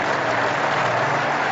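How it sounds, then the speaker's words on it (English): A packed crowd at Lord's cricket ground stands and applauds during an England versus Australia one-day international, a dense, steady roar of clapping that carries evenly throughout with no break. "Whole ground stands up for applause."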